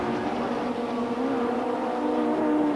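Vauxhall touring cars racing at Thruxton in the 1991 British Touring Car Championship, a steady loud engine drone with a rising whine held throughout, no talk.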